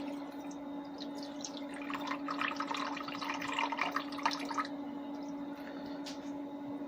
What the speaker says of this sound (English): we're gonna go ahead and pour this